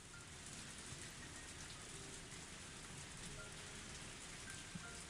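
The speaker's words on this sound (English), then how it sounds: "I felt like this heavy rain was keeping my enemies away from the castle." Heavy rain falls in the Higurashi Tsumihoroboshi video game, a dense, continuous wash of downpour at steady volume with no other sounds over it.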